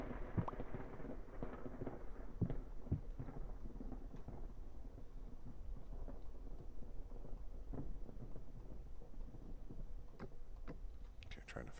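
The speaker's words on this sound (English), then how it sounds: "Whoa, big storm. Big time storm." A thunderstorm in the video game Vintage Story, with deep rolling thunder and steady rain-like noise that stays loud and continuous throughout.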